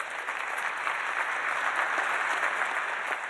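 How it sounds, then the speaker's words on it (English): An audience at a conference summit claps in steady, sustained applause, a dense patter of hands throughout with no talking. "If you could just give her a round of applause."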